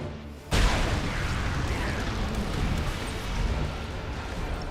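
A sudden, heavy boom marks a torpedo detonation in the space battle game Battlefleet Gothic Armada 2, then a long rumbling wash lingers for several seconds at a steady, moderately loud level.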